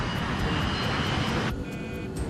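An airliner flying overhead in the skies over California, a loud, steady broadband engine roar filling the whole clip and easing slightly near the end.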